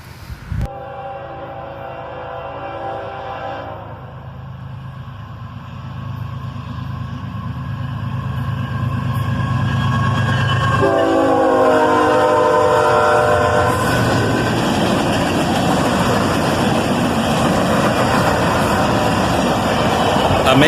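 A northbound CSX mixed manifest freight train led by two ES44AC locomotives sounds its horn in long blasts while the engines rumble closer and louder, building into steady rolling wheel noise as it passes near.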